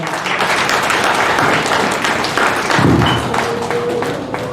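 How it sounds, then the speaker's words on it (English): A church congregation at a Sunday service applauds in a dense, continuous wash of clapping, with a few louder thumps mixed in. "Let's give a clap offering to our sister."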